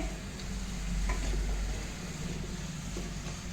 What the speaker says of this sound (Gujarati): આને મિક્સ કરી લઈએ આપણે